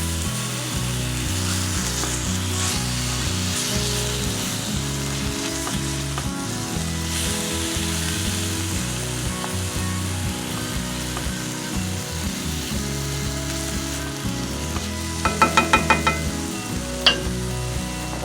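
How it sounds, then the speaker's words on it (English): Ground beef browns in hot oil in a skillet while it is broken up, giving a steady, loud sizzle throughout, with a few sharp utensil scrapes and clicks near the end. "I'm just gonna add the ground beef and start breaking it up and brown it."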